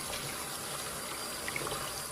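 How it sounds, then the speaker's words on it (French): A fish rinsed under running water: a faint, steady trickle and splash of water for about two seconds, fairly quiet and uniform, with no voices. "je vais venir rincer mon poisson"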